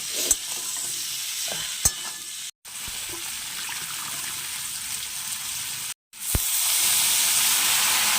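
Vegetable curry of broad beans, eggplant and potato cooks in a pan with a steady close sizzle and bubbling hiss, interrupted by a few stirring clunks and two brief silent breaks.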